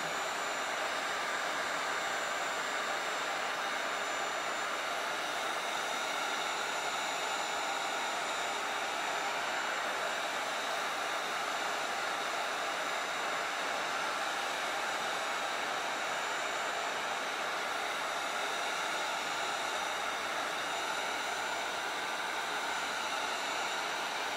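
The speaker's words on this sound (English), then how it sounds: "I'm mainly just drying the torch paste at the first go around and then going over it." A heat tool blows steadily while drying torch paste on a thin piece of wood for wood burning, a constant close, even airy roar through the whole stretch with no talking.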